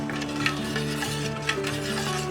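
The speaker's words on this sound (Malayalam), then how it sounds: "ഇളക്കിക്കൊണ്ടേയിരിക്കുക" A milk and vanilla essence mixture is stirred in a pan as it heats toward a boil, with continuous scraping and swishing and a couple of small knocks, no voices.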